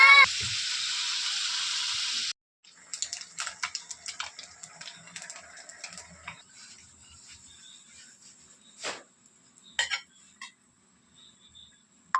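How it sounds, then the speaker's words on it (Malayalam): Prawns fry in a pan on a stove, a steady hiss opening the clip before giving way to scattered crackles, spits and light clinks. "അപ്പോൾ ചെമ്മീൻ ഫ്രൈ റെഡിയാവുകയാണ്"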